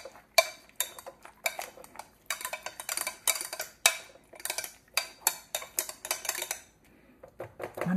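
Fruit being mashed in a bowl for a tripled batch of apple pumpkin spice muffin batter: a run of sharp clattering knocks and scrapes of a utensil against the bowl, fairly close and irregular, with a brief pause near the end.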